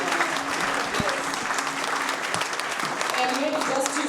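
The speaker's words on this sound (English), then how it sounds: "I would like to us to just give a round of applause to all the innovators." Audience applause for innovators at an ICT innovation fund pitch night in Harare, a sustained, even wash of clapping from a crowd, with a few voices faintly mixed in.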